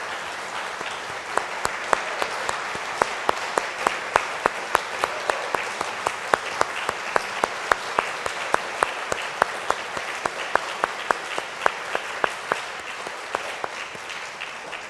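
Congregation audience applause at a religious service, a continuous wash of clapping with sharp individual claps standing out regularly, sustained for about fifteen seconds at moderate level.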